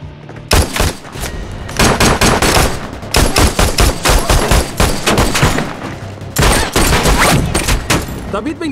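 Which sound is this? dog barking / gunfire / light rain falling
gunfire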